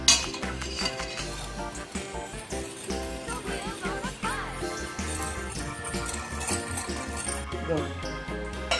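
A spoon stirs a homemade taho mixture in a pot, scraping and clinking against the sides in busy, irregular strokes, close and fairly loud, with a steady background bed running throughout.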